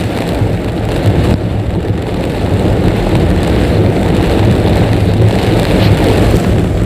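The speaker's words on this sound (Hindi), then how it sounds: "बारिश हो रही है" Rain falls steadily on a car creeping along in first gear, a dense, even hiss of drops mixed with low cabin rumble that holds unbroken throughout.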